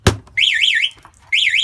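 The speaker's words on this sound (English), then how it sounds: "So if I bang on the Spyder," A Can-Am Spyder RT motorcycle alarm set off by vibration: a sharp bang on the bike, then a loud warbling siren that sweeps up and down, cuts out briefly and starts again, close and alone.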